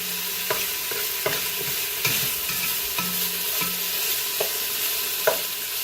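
Thai red curry paste sizzles in a pan while a utensil stirs it, a steady frying hiss broken by regular scraping strokes roughly every second, close and clear with no talk.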